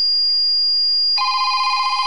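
A Paradox PCS250 alarm panel with a VDMP3 voice module calls out: a single steady tone gives way to a loud, trilling telephone ring that is clear and close, with no talking.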